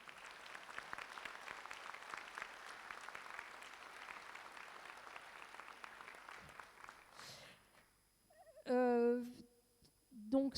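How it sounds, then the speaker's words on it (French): Audience applause at a town New Year's greetings ceremony, a steady wash of clapping from a crowd in a hall that dies away after about seven seconds, followed by brief voices. "donc un grand applaudissement pour Madame Blin."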